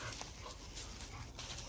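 Hunting dog on a night raccoon hunt, panting steadily with faint whimpers, close by and continuous with no talk.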